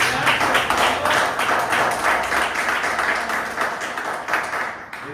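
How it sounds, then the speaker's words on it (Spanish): Congregation applause in a church service, a dense, steady wash of many hands clapping with faint rhythmic accents, fairly close and loud throughout. "Denle un aplauso al Señor."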